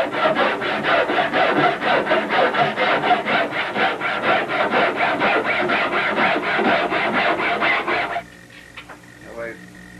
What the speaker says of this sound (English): Now we rasp the sharp bead here.